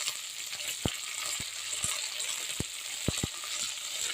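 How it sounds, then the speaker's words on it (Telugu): Mint leaves frying in oil for tomato rice give a steady, close sizzle with a few sharp crackling pops scattered throughout, and no voices. "మంచిగా ఫ్రై అవుతుంది కదా దీంట్లోనే పుదీనా కూడా యాడ్ చేసుకుందామండి"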